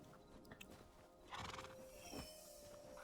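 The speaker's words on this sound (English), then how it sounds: "Oh, you're just a horse." Horse neighing in the video game Hytale, a sudden loud whinny bursting out midway with a second shorter call after it, over steady background game ambience and faint hoof clops.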